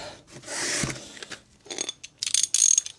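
A ratchet with a 19mm socket loosens a nut on a VW Crafter van, giving short close bursts of clicking and metallic rasping with pauses between.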